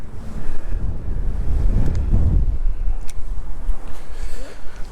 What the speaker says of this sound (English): a big gust of wind just took the whole tripod over.